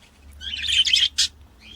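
Fischer's lovebirds in a home aviary give a quick burst of close, shrill chirps and twitters, then a sharp single call and a faint trailing chirp, with no talking.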